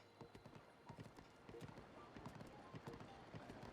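Horse hooves clip-clop in The Legend of Zelda: Breath of the Wild, a quick, steady stream of hoofbeats under a continuous background wash, with a faint neigh-like tone mixed in.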